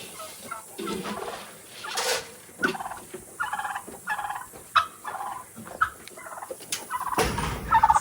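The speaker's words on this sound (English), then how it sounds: "Come on, Turkey. Come on, gobble, gobble." A turkey gobbles repeatedly at close range, rapid warbling bursts broken by brief pauses, with other fowl clucking around it.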